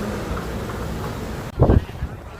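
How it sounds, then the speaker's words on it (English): Steady low wind rumble buffets the microphone in Lisbon, Portugal, with a louder gust thumping in briefly near the end. "It's extremely windy today"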